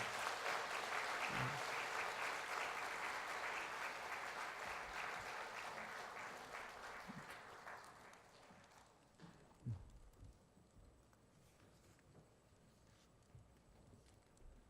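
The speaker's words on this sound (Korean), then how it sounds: "큰 박수 해주시길 바랍니다" A church congregation applauds at a missionary sending service, loud dense clapping that gradually thins and fades over several seconds into a few scattered claps and quiet room noise.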